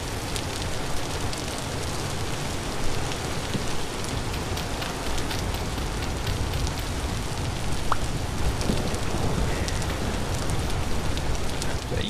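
Steady rain in the survival game Vintage Story, falling as a dense, even hiss with light pattering drops, continuous and fairly close throughout without any talking.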